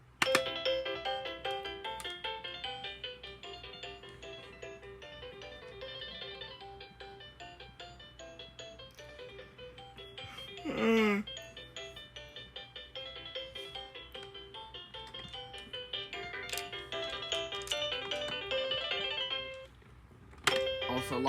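Tinny MIDI melody from a 2010 VTech Spin and Learn electronic toy, chiming and beeping steadily at moderate loudness, with a brief sweeping effect midway and a short pause near the end.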